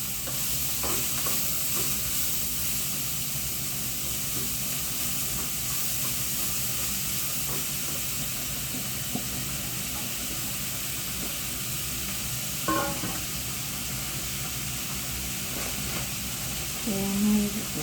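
Spices and grated coconut being stirred in a hot pan after salt and turmeric go in, with a steady sizzling hiss and occasional scrapes of the spoon, close and even throughout.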